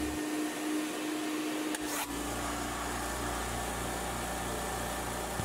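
A small air compressor runs steadily during abrasive blasting, its motor drone loud and constant throughout, with a brief sharp burst of air partway through and no talking.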